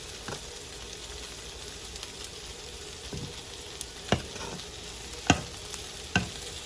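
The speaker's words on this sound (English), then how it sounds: "I'm just stirring it to get that cream cheese all melted in." Cream cheese sauce is stirred into pasta in a pan at a home stove, giving a low steady sizzle with a few soft scraping strokes and spoon taps close by, with no talking.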